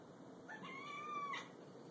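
A house cat gives one clear, drawn-out meow close by, rising and then falling, alone in a quiet room.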